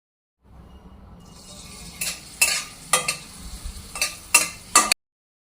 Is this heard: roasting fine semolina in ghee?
yes